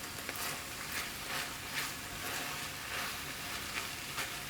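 Minced beef and flour sizzle and crackle in a hot pan with a steady, soft, hissing fry that carries on evenly with no voices.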